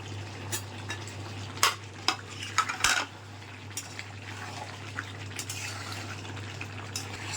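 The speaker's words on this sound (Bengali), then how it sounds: "এবার ভাজা আলুগুলো দিয়ে দেবো" Fried potatoes go into a pan of chicken curry and get stirred, a few clattering utensil scrapes and knocks against the pot, loudest in a short burst near the middle, over a steady low hum.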